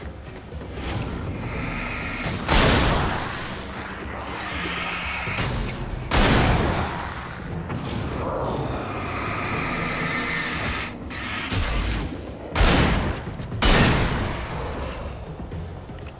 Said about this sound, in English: I want to switch to the hunting rifle